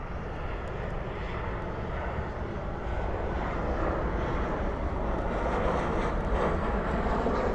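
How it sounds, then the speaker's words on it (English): A Boeing 737-800 lands at night at Dallas/Fort Worth airport with spoilers up and thrust reversers deployed, giving a sustained, loud broadband jet roar that swells slightly toward the end. "Spoilers up, reversers out on that 737-800."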